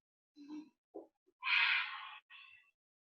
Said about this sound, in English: Big full exhales through your nose.